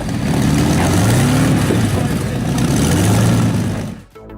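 Large engine of a car built on a 1930 Bentley with 24 exhaust outlets, a loud, steady deep rumble with rising and falling revs throughout, cutting off abruptly near the end.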